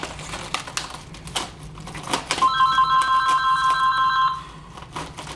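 Sharp clicks and taps are joined midway by a bright electronic ring lasting about two seconds, then the clicking continues.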